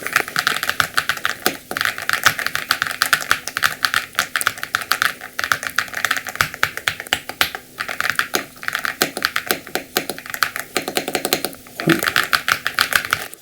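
Typing on an EPOMAKER RT-100 keyboard, a close, dense run of clacky keystrokes in irregular bursts with brief pauses, loud and alone without talk.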